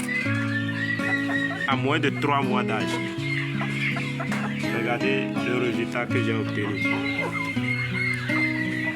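Chickens clucking on a poultry farm where young birds are raised, busy overlapping clucks under steady French speech, with tonal background sounds throughout.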